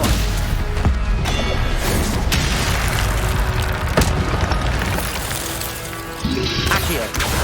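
Stupefy spell impacts during a Hogwarts Legacy battle, heard as a dense run of booming, crashing hits and whooshes layered over game score, loud and continuous with several sharper thumps.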